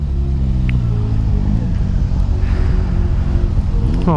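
A Suzuki SV650 motorcycle engine runs nearby at a steady, deep, throbbing idle, then rises into a brief rev at the very end.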